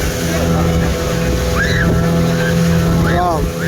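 Steady motorboat engine drone on a ride at Muttukadu boat house, continuous and fairly loud throughout, with brief rising voices or calls cutting in over the engine.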